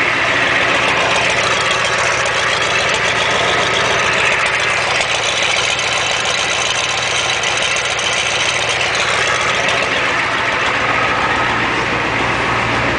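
A Ford diesel truck with a flatbed idles after a cold start following five months of sitting, running through a straight-pipe exhaust that is shot. The rumble is steady, loud and close, with no one speaking.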